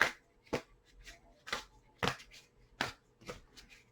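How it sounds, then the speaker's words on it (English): A large deck of tarot cards is shuffled by hand in a quiet room, with sharp, crisp riffling bursts and softer card slaps arriving in an irregular rhythm, close and fairly quiet. "Okay, I'm going to give it another shuffle."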